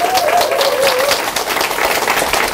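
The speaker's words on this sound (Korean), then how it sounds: "박수 한번 칠까요" A lecture audience claps together at a business seminar, a dense, even burst of many hands filling the room throughout, with a brief vocal sound at the start.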